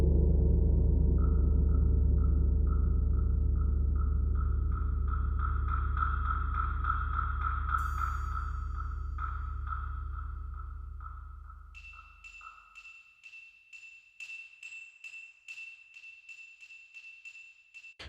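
Programmed MIDI music playing back in Logic Pro X with bassoon, a low sustained bed under a repeating mid-pitched melodic pattern that fades, then gives way to bright, plucked high notes in a steady rhythm, no voices.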